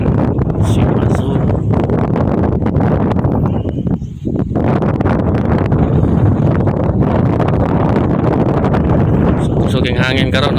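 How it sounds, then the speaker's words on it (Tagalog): Strong wind of about 15 to 16 knots buffeting a microphone aboard a landing craft vessel in the Cebu Channel, a loud constant roar with gusty rustling, while someone talks throughout. "So kusog ang hangin karon, no?"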